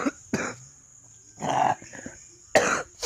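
A person with a bad cold and a burning chest coughs close up: four harsh, separate bursts spread across a few seconds, with quiet gaps between them.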